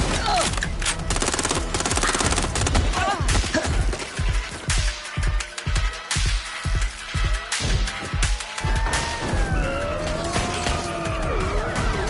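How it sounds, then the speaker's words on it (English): Dense gunfire in the video game Watch Dogs: Legion, with rapid automatic bursts and repeated shots over roaring car engines, skidding tyres and a siren, loud and close throughout. "Shots fired!"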